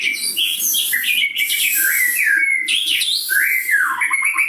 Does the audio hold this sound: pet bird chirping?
yes